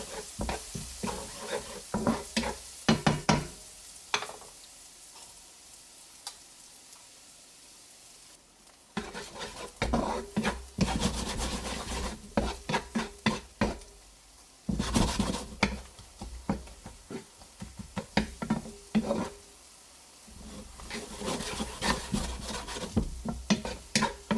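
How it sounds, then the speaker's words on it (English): Eggs for an omelet are stirred briskly in a figure-8 motion in a hot pan, scraping and tapping in quick bursts over a soft sizzle, with brief pauses between rounds. "Here I'm using a classic French figure-8 technique for the omelet."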